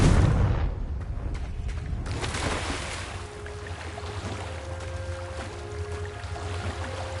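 A Confringo fire spell explodes in Hogwarts Legacy with a loud, sudden blast at the start that fades into a long, rumbling roar. No one speaks.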